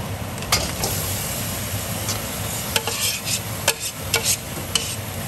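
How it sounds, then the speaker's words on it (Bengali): Chicken frying in onion-garlic paste on a stove, a steady close sizzle with sharp scraping and clinking stirring strokes at irregular intervals. "চিকেনটা দিয়ে দিয়েছি, ফ্রাই করে দিলাম স্টোভটা।"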